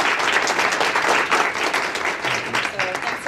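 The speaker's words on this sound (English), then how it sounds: "So please join me in a round of applause" A round of applause from the audience at a Transit Tech Lab info session, steady dense clapping that swells and holds, with a faint voice underneath.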